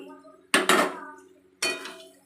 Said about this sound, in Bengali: এবার আমি এর মধ্যে ভেজে রাখা পেঁয়াজগুলো অ্যাড করে দিলাম,